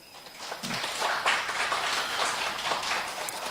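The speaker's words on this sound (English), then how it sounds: "Please, round of applause." A small group gives a round of applause. The clapping starts after a quiet opening, then runs as a moderate, continuous patter to the end, with no one talking over it.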